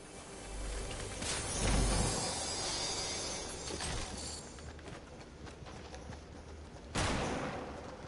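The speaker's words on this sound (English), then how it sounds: "Getting sniped already?" Gunfire in the Fortnite battle royale game, with sharp, loud shot-like bursts near 1.3, 2 and 7 seconds over a steady din of in-game ambience, no talking.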